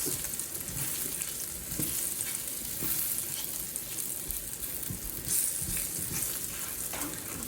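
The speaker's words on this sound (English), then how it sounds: "we're gonna toast this until it becomes quite fragrant" Spices, cinnamon among them, sizzle and fry steadily in a hot pan with occasional stirring scrapes, a continuous close crackle with no talking.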